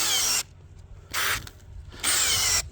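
A cordless battery drill bores holes in three loud bursts of high whirring, each lasting about half a second, with short quiet pauses between them and no voices.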